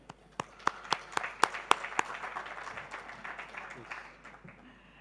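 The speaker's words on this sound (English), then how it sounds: "let's give a round of applause for Georgia." A business forum audience applauds a speaker, starting with a few crisp, spaced claps that thicken into a fuller patter and then gradually fade, heard at a moderate distance.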